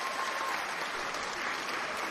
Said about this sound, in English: Hand claps for you.